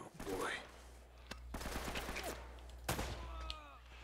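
Gunfire in Uncharted: Drake's Fortune on PS4, several bursts of sharp shots with echoing tails mixed with other game sounds, loud and close, with a few separate rounds cracking out across a few seconds.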